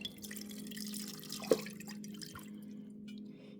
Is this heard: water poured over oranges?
yes